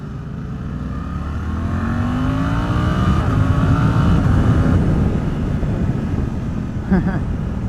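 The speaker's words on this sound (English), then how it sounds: "That's full throttle right there. It does get up." Suzuki GSX-8R motorcycle accelerating at full throttle, engine note rising loudly through the revs with a shift, then easing off, with a short burst of voice near the end.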